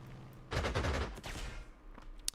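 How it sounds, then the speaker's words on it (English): Aircraft strafing an artillery piece in Panzer Corps 2 during a Spanish Civil War campaign: a short rattling burst of rapid gunfire, loud and close, followed by a few scattered lighter impacts. "I might strafe this artillery piece"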